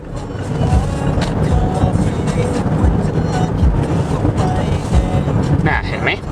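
A Mazda CX-8 drives on the road and pulls out to overtake, producing a loud, fluctuating cabin rumble of engine and tyre noise with a few brief clicks and bumps throughout.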